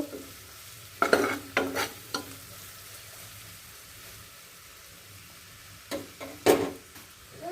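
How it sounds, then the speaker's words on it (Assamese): Fish pieces frying with salt and turmeric on a low flame, a base for mustard fish curry: a constant soft sizzle broken by two bursts of spoon stirring and scraping, near and clear with no talk. "একদম ল' ফ্লেমত ভাজি কৰি থাকিব।"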